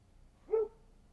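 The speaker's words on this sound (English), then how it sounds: "Sorry, I don't know why the dog's barking." A single short dog bark sounds once, fairly faint and at a distance, in an otherwise quiet indoor room.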